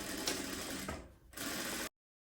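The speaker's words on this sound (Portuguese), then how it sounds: "Pode passar a costura e já fazer o acabamento de viés aqui nessa parte também." A sewing machine stitches a sleeve seam on a dress coat, a close, fast, steady mechanical whir that pauses briefly, resumes, then cuts off abruptly.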